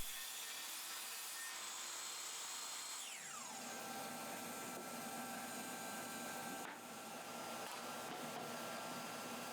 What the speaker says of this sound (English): I'm using the table saw and an extended gripper to square it up